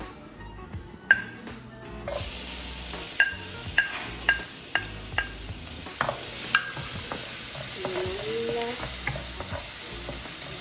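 Garlic and shallots sizzle loudly in hot sesame oil, with a spoon clinking against the pan in regular strokes while it is stirred; a voice speaks a brief word.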